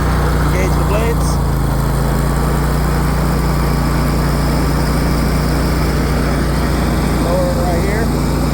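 A 52-inch Craftsman ZTS 6000 zero-turn riding mower runs with its blades engaged, giving a loud, steady engine drone from close range that continues without a break.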